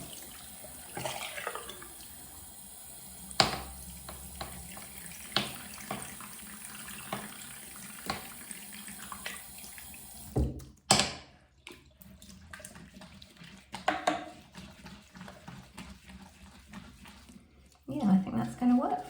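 Makeup brushes being swished and rinsed in water on a silicone cleaning palette, quiet intermittent splashing and running water over about nineteen seconds, with someone talking throughout and a clearer burst of water near the end.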